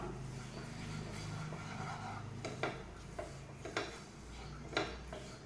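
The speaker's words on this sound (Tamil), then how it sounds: "நெய் போட்டு ரவையை வறுத்துக்கலாம்" Semolina roasts in ghee in a pan, with quiet scraping and a few light clinks of a spoon against metal over a soft, steady background hum.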